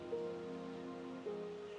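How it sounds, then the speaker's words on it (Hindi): Continuous rain makes a soft, steady hiss that runs evenly throughout, faint and uniform with no breaks, while a sustained tonal hum sits underneath. "यार बारिश बंद होने का नाम ही ना ले रही।"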